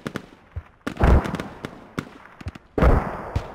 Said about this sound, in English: We're trying to hit it with mortars